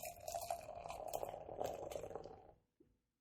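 Lager beer pouring out steadily for about two and a half seconds, a continuous liquid gurgle and splash that stops abruptly, followed by a brief faint clink.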